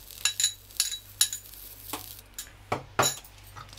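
Turnip kebab mixture being mixed with chopped onion and green coriander for vegan galawati kebabs, with several sharp clinks and scrapes of a utensil against a bowl at an irregular rhythm, close and fairly crisp, without talk.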